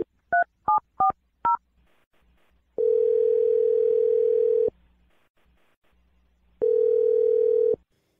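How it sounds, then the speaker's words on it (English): Telephone keypad dialing: four quick touch-tone beeps, a pause, then two long steady ringback tones separated by silence, clear and close. "I'm going to dial Jake's phone number right now"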